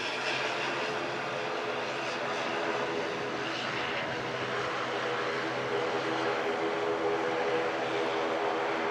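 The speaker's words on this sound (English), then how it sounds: "Lots of heavy aircraft moving." Heavy aircraft moving at Manchester Airport, a steady, fairly faint engine roar held at a distance throughout, with no talk over it.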